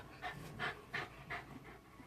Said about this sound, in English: my dog's got this heavy panting going on